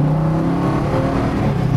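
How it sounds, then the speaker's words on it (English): A 1966 Chevrolet Chevelle SS396 with its big block engine pulls hard under acceleration, a steady loud engine roar with exhaust rumble sustained throughout, with no talking over it. "that big block sure pulls hard"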